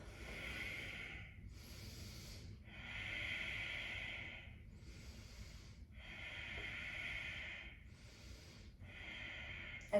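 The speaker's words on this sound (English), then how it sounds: "And breathe." Slow, deep breaths during a gentle hamstring-stretch yoga practice, each long airy inhale and exhale close and steady, repeating about every two seconds with brief pauses between.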